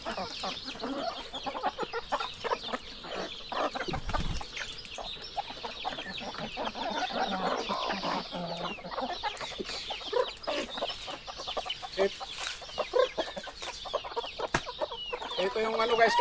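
Chickens cluck and squawk continuously at close range, many birds calling over one another in a busy, overlapping chatter.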